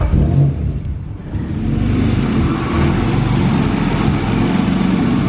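BMW E36 with an M50/M52 engine running after a head gasket swap, a steady low rumbling idle that holds evenly throughout, close and fairly loud with no talking.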